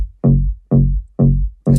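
Layered synth bass, a top bass layer stacked over a sub bass, hitting as one tight sound in four evenly spaced notes, each a heavy, loud burst that fades quickly, with no voices.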